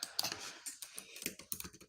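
Quick, irregular clacking of keys on a computer keyboard, close and fairly quiet, with a dense run of strokes and no talking.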